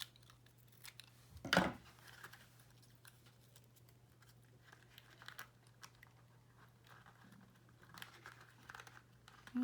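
Scissors cutting a paper slipper template: one distinct snipping cut early on, followed by faint rustling paper handling over a quiet, steady background hum.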